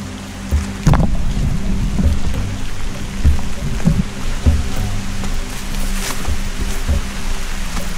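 Heavy rain pours down steadily on a walking trail heading into a valley, with a dense, continuous hiss and scattered louder drops or gusts nearby, no talk.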